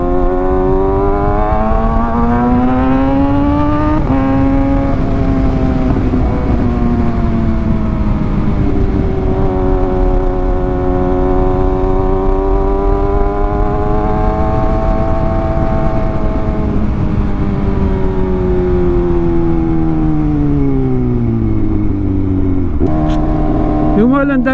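A motorcycle engine, freshly changed to Amsoil oil, revs up and down in long sweeping rises and falls, loud and close, with a brief sharp blip near the end.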